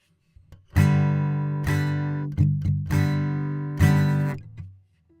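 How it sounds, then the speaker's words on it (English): Guitar chords in the E-shape G position from a song, three separate strums each left to ring and fade, with quick muted chops in between, close and alone. "the way that the G is played in this song is actually the E version of it."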